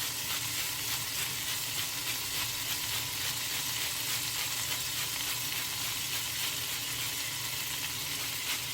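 Butter and lemon frying in a pan for lemon pepper honey fried chicken, a steady, dense sizzle that holds at an even level throughout with no voices over it.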